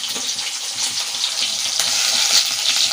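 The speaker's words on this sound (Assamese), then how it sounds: "এতিয়া মাছবিলাকৰ লাষ্ট মানে বেজটো ভাজি আছো" Small fish frying in a pan, a steady loud crackling sizzle with bright hiss throughout and faint stirring or bubbling underneath, no voices.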